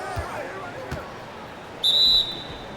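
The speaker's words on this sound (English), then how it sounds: "And the officials whistle a foul on the shot." A referee's whistle for a shooting foul in the NBA 2K17 basketball video game on PS4 gives one short, shrill blast over steady crowd noise in the arena.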